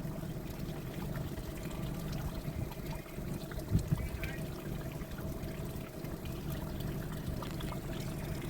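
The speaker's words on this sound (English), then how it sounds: "Small little trickle of water." A steady trickle of running water from a small waterfall on a mountain pass, continuous and fairly close, with a brief splashy surge partway through.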